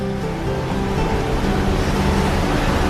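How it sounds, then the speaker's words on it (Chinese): Ocean waves heard from the deck of the cruise ship Spectrum of the Seas at sea, in wind and rain, a loud continuous rushing wash with no clear breaks. "现在就是听着外面的海浪声"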